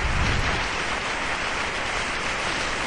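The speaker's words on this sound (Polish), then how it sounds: "Yes, clap for Jesus." A large crowd at an evangelistic gathering applauds for Jesus, producing a dense, steady roar of clapping that holds at an even level throughout without any voices.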